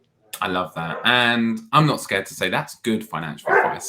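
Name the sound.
dogs barking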